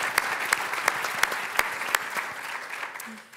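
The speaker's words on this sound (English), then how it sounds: "So if you could all just give them a round of applause." An audience at a governor's convening on digital innovation and lifelong learning claps steadily, a dense wash of hand claps with a few sharper individual claps standing out, fading slightly toward the end.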